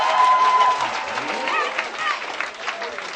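Church audience clapping for a gospel group at an album dedication service, a steady crowd applause with chatter mixed in.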